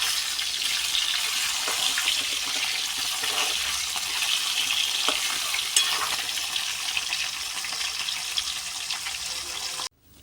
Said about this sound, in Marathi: झालं बघा तळून सगळं.